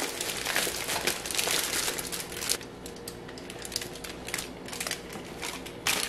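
Aluminum foil crinkles and crackles as it is peeled off a cooked slow-cooker meatloaf, a run of close, uneven crumpling bursts with no talking.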